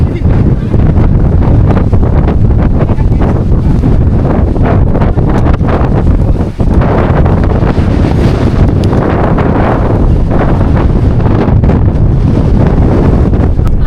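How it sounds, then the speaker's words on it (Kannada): Strong, steady wind roars and buffets the microphone on the hilltop peak of Kote Betta in Madikeri, Coorg, loud and continuous throughout. "ಸೊ ತುಂಬ ವಿಂಡೋದು ಸೌಂಡ್ ಇದೆ, ಅದಕ್ಕೋಸ್ಕರ ವಾಯ್ಸು ಕರೆಕ್ಟಾಗಿ ಕೇಳಿಸಲ್ಲ."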